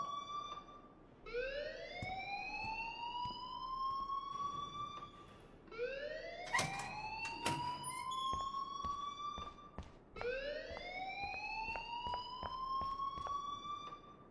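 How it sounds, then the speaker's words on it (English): An alarm in the video game Life Is Strange: Chrysalis wails in three rising electronic sweeps, each climbing in pitch before cutting off, loud and repeating with short gaps between them. "please turn off that alarm since that's your job"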